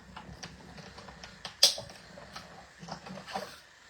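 Paper being trimmed on a plastic cutting plate with a paper trimmer: scattered soft scrapes and clicks, one sharper snap in the middle, close and fairly quiet.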